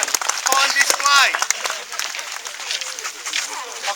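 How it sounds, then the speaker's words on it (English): Audience clapping in an outdoor military ceremony at Elizabeth Castle, greeting a drill display by new recruits, with a voice and cheering mixed into the moderate, steady applause. "Big round of applause."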